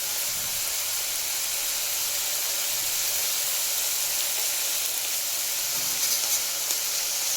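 Fenugreek leaves fry in hot oil for methi pulao, a steady loud sizzle and hiss that runs unbroken, close to the pan, with no talking.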